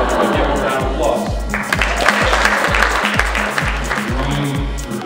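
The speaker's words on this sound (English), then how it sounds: "Give him a round of applause." Audience applause at a mentalist's stage show, steady clapping under ongoing talk with a rhythmic low thumping beat running beneath.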